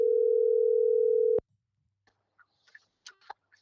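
A telephone tone hums steadily for over a second during a call back and cuts off sharply, followed by a few faint clicks and small sounds in near silence.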